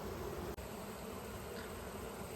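Honeybees at an opened hive that has been quieted with smoke give a close, continuous, even buzzing drone, with no voices.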